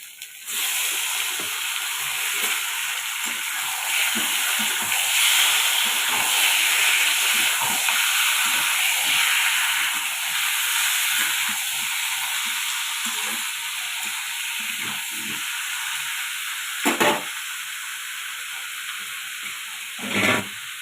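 Chicken pieces frying in a pan with onions, garlic, ginger, bay leaf and whole spices, giving a loud, continuous sizzling hiss with occasional sharper spatters and stirring clatters near the end.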